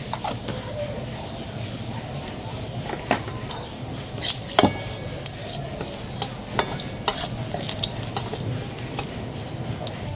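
A bay leaf and whole cumin seeds sizzle steadily in hot oil, with a spoon stirring and occasionally clinking against the pan throughout.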